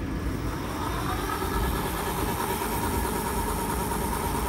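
Cyrusher XF800 electric bike motor running on throttle, a steady continuous drone with a whining hum, fairly loud and close, no talk.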